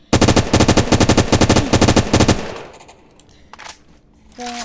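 A gun in the Minecraft video game fires a rapid burst of about twenty loud, evenly spaced shots, then stops, leaving a few quieter clicks and mechanical sounds of reloading.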